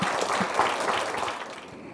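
Audience applause at a Seoul city council staff assembly after a string ensemble's performance, many hands clapping in a steady wash that fades slightly toward the end, with no voices over it.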